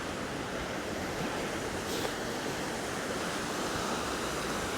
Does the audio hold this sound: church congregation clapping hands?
no